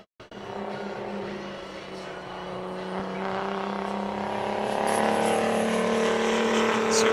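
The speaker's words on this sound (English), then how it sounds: "Here he goes on his first qualifying lap." A big rig racing truck runs a qualifying lap at the Mission Valley Super Oval, its engine a loud, steady roar that builds gradually as it comes closer, with a faint voice beneath.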